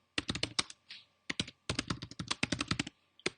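Rapid keyboard typing in bursts of clacking keystrokes with brief pauses, close and clear, no voices.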